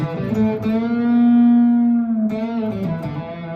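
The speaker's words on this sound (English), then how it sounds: "You can do some heavy, distortion blues." Gretsch 6118 electric guitar played through heavy distortion in a blues style: a few sustained, gritty chords with one long held bend in the middle, alone and fairly loud.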